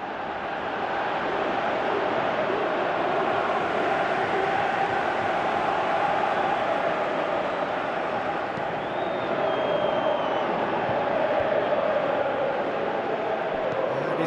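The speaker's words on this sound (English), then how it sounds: "Crowd calling for him to shoot." Stadium crowd noise from a Pro Evolution Soccer football match, a steady dense roar of massed voices swelling as the crowd urges a shot, loud and continuous throughout with no clear talk over it.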